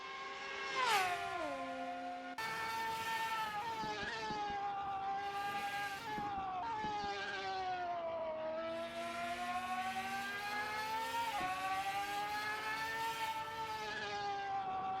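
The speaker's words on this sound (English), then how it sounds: "Let's just sit back and enjoy the sound of these GT500 cars." Several GT500 race cars in a sim racing game at Suzuka scream past, layered engine whines rising and falling with gear shifts, steady and prominent with no talk.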